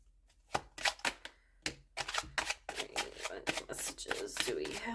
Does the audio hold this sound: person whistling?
no